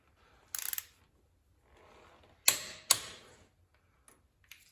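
A socket wrench ratchets on the bolts of a 1973 Kubota L210 tractor being repaired for low compression, making a few short, sharp bursts of clicking separated by quiet gaps.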